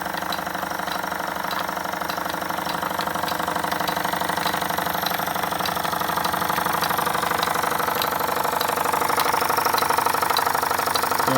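A Jensen #10 deluxe toy steam engine runs steadily at close range, giving a continuous whirring churn with faint regular ticking throughout and no voices.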